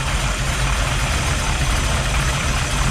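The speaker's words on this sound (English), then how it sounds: "You can hear the engine start to slow down, retarding the timing." A 1957 Chevrolet Bel Air V8 idles steadily and close up while its ignition timing is adjusted, giving a continuous low rumble with an even, throbbing pulse.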